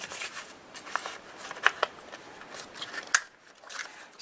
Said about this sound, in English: So then I will just snip off the corners here.